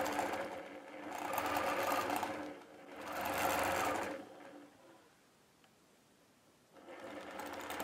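A sewing machine runs in two long bursts of steady, loud stitching, back and forth along a thick line for a medallion design. After a short quiet pause a third run begins, with no talk over the stitching.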